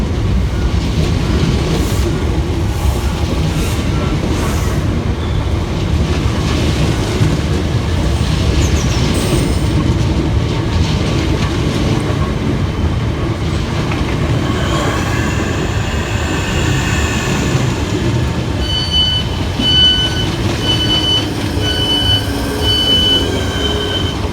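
A three-unit Southeastern Class 465/466 electric train rumbles steadily into Waterloo East station, wheels clattering and squealing faintly on the rails, with high brake whines near the end.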